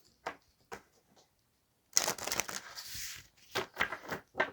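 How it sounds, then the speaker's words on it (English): A deck of cards being shuffled by hand: a couple of soft isolated flicks, then a longer crisp riffling burst followed by more brisk bursts, close and clear with no talking. "I do like to shuffle on camera, just so that you guys can see that, things are shuffled, mixed up."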